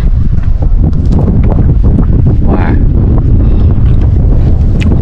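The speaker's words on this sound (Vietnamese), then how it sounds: "gió quá mọi người thông cảm nha" Strong wind buffets a microphone outdoors near water and boats, a loud continuous low rumble with gusty bursts filling the whole stretch and no clear talk over it.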